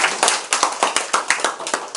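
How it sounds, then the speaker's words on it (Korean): Workshop audience clapping in a room: dense, close, steady rapid claps from a group, with no talk over them. "박수 한번 쳐주세요"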